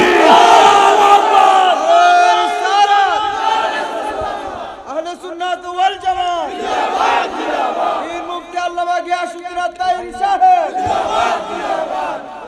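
A large crowd at a Bangladeshi religious gathering roars a chanted response to a takbir call, loud massed voices in repeated swelling phrases with short pauses between them.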